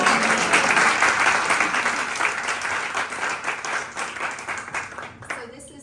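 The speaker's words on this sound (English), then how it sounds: "That's a round of applause." Round of applause from an audience at a London charity event, loud and dense at first, then thinning out and fading over several seconds before trailing off.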